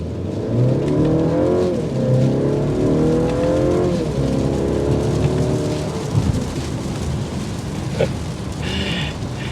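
A 2024 Mercedes-Benz C300's turbocharged four-cylinder rises in pitch through several gears as it accelerates, heard from inside the car while rain patters steadily on the body. Nobody talks.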